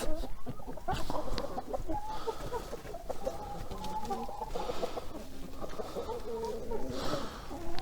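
Light Brahma chickens cluck and murmur continuously, a flock milling close by over feed with overlapping calls and rustling, no voices.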